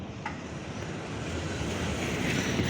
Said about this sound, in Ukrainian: Бачите, друзі, о трамвай їде.